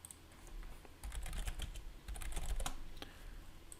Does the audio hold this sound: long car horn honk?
no